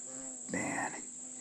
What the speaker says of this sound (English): another horsefly buzzing me.